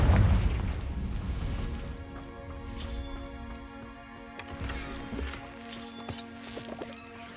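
A blasting-spell explosion in a Harry Potter video game: a heavy boom at the start, then a crackling, ringing tail with scattered smaller pops and bursts, loud and close, no talk.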